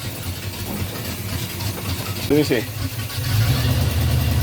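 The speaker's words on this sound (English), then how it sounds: "Let me rev it up. That engine's probably has salt water everywhere." The engine of a Luhrs 28 boat, which may have salt water through it, runs with a steady low rumble that grows louder and rougher as it is revved near the end, while someone speaks briefly.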